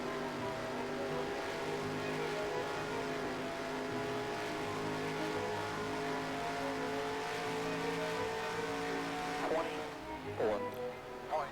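Race cars on a track in a racing video game, a continuous loud engine drone with layered revving tones and gear shifts near the end, with someone talking over it.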